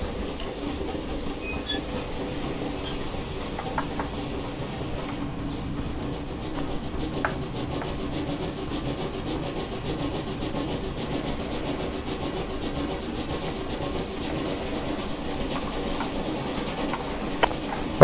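A BR 9F 2-10-0 Franco-Crosti steam locomotive in Train Simulator picks up speed with a light train, a steady rumbling rail roll with faint rhythmic chuffs and clanks, even and unbroken throughout.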